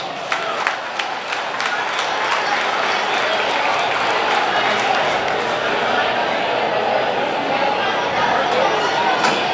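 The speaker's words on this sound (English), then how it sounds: "let's give them a big round of applause." Applause from a banquet crowd at a speedway awards night in the Wichita Union Stockyards: dense, steady clapping with some cheers and chatter, sustained throughout.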